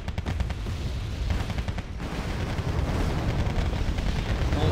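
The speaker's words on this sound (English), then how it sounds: "But now it's just the machine guns being fired." Rapid machine gun fire in the video game Wargame Red Dragon, a fast rattling stream of shots over a deep rumbling battle din, loud and continuous, with no talking.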